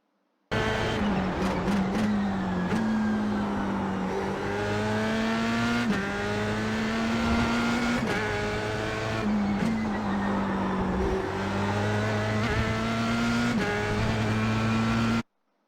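A Formula race car engine in iRacing at Silverstone International screams loudly and continuously as it runs flat out down the straight, its pitch climbing steadily and dropping sharply at each upshift, with no talking.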